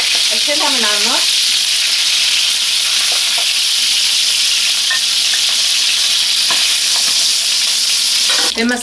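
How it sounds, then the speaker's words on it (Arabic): Pieces of chicken and potato fry in hot oil in a pan for a casserole, a loud, steady sizzle close up that runs unbroken throughout, with a brief voice-like sound near the start. "هي ما استوتش قوي بس اتحمرت، بس انا مش عايزه غير ان انا احمرها"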